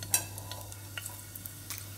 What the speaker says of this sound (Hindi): यहाँ मैंने तेल गरम कर लिया था जब तक। अब इसमें हम डालते हैं ये 3-4 लौंग